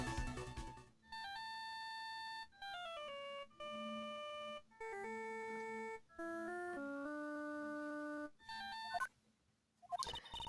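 A cell phone ringtone from the Phoenix Wright Ace Attorney Justice for All video game plays as a bright electronic melody of stepped beeping tones in repeated phrases, loud and clear with short gaps and no voices.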